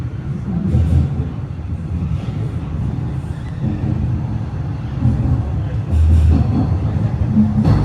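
A Toronto TTC Line 4 Sheppard subway train rumbles steadily along the tracks, with a low droning hum and occasional rail clatter, heard from inside the car.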